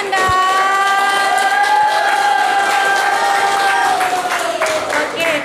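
Schoolchildren at a scout yell performance at an elementary school clap and cheer loudly and continuously, a crowd of young voices with shouting over dense applause.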